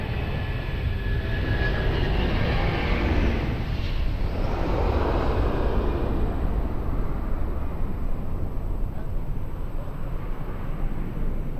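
Airbus A330 airliner departing Lisbon Airport on runway 02, a loud, sustained broadband engine roar that swells and holds steady for the whole stretch, with no pauses.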